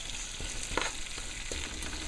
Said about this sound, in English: Now it's going to be frying down a little bit there